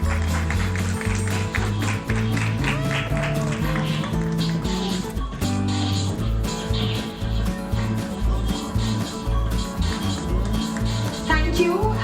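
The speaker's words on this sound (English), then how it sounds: "A huge round of applause for the judge." Audience applause fills a beauty pageant grand finale, steady clapping running for several seconds under background music, with a voice speaking over it.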